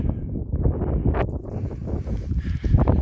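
Strong wind buffets the microphone with continuous low rumbling gusts on a spring evening in Finland, no voices, just blustery outdoor air.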